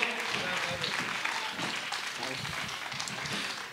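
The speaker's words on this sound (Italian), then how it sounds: "Un applauso a Simone." An outdoor crowd in a town square at Pejo applauds, a dense, steady clapping that fades slightly toward the end, with voices mixed in.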